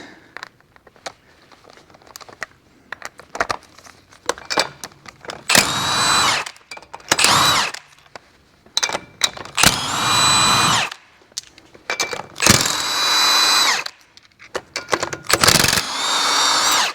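An impact or power tool spins off lug nuts on a 2024 Ford F150 4x4 with the 5.0 engine, firing in repeated loud bursts separated by short pauses and quieter ratcheting clicks, with no talking.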